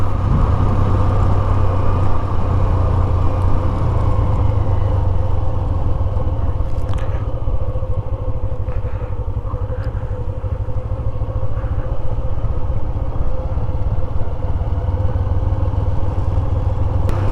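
Motorcycle rolling downhill on a steep mountain road from Babusar Top toward Gilgit, a steady loud rumbling drone with constant wind and road noise and faint rattles, unbroken for the whole stretch.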